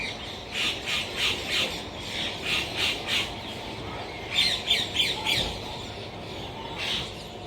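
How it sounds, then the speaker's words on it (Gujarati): Several birds squawk and call in repeated bursts from a rooftop over steady outdoor background noise, with a louder cluster of calls midway. "મિત્રો તમને અલગ અલગ પક્ષીના અવાજ અહીંયા સંભળાતા છે તમે જુઓ"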